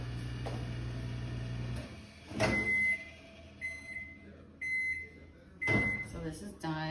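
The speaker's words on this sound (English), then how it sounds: "Again, I don't know why our microwave is making that." A household microwave oven runs with a steady low hum, broken by several loud, uneven rattling and clicking bursts of an odd noise, close by in a kitchen while oatmeal is being prepared.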